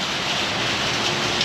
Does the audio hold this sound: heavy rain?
yes